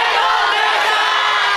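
An outdoor audience at a yosakoi dance festival stage cheers and applauds in a steady, dense wash of crowd noise that holds throughout, with scattered shouts mixed in.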